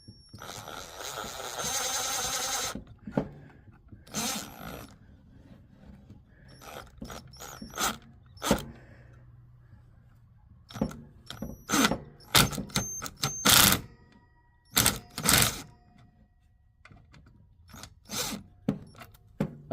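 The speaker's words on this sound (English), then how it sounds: "the drill actually has the correct size for the end of this, so I can just go zip, zip, zip." Cordless drill driving screws into a Cut 40 plasma cutter during repair, heard as short sharp whirring bursts separated by gaps, loud and close with quieter clicks between.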